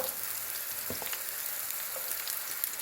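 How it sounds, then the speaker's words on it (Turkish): Oil sizzles and crackles steadily as eggplant fries in a pan, close up, with soft pops scattered through the hiss. "Patateslerimiz kızardıktan sonra patlıcanlarımızı şimdi aynı şekilde kızartıyoruz."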